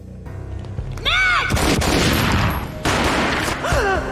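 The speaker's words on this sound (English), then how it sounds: "A gunshot boomed and she fell down in slow motion." Gunfire in the video game Max Payne: two loud, booming blasts ring out close and heavy, each followed by a sustained rumble, with a brief wailing cry before the first shot and again near the end.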